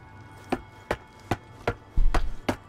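Axe chops at trees in the EverQuest Next Landmark video game: six sharp, evenly spaced wooden thwacks, the last few faster and heavier over a low rumble, with no talking.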